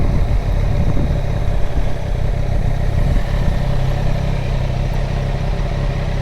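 A 2020 Triumph Street Triple 765RS motorcycle engine idling nearby, a loud steady rumbling chug with some mechanical clatter, no talking.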